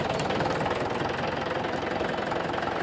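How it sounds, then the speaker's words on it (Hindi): Tractor engine running steadily as it is driven, a loud, continuous diesel-like rumble with a rapid knocking pulse throughout, close to the microphone and with no talking. "आप लोगों के सामने ट्रैक्टर भाई चला के दिखा रहे हैं कि किस तरीके से कैसा काम कर रहा है।"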